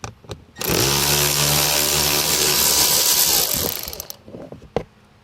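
A socket wrench ratchets out a blower motor resistor screw on a Chevy GMC truck, giving a loud, close, buzzing run of rapid clicks lasting about three seconds, with a few separate short clicks before and after.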